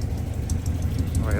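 A 1971 Land Rover Series IIA 88 idles nearby with a low, steady, even engine rumble and quiet exhaust, while someone talks over it.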